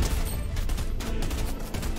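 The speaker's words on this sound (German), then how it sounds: "Oh, er schießt auf mich, er schießt auf mich." Gunfire in the Fortnite video game crackles as a dense burst of rapid shots, loud and continuous from start to finish with no voices over it.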